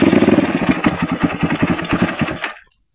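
Honda XR 200 motorcycle engine, previously failing to start from a weak battery, runs with a loud close rhythmic single-cylinder chug and idle, then cuts off abruptly near the end.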